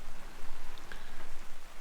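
Rain falls steadily at a campsite in the New South Wales high country, a dense close patter of drops on surfaces with an even, rushing texture and no voices.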